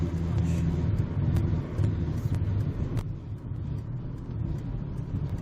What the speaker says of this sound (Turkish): Şimdi gazını ver, yokuş çıkacaksın.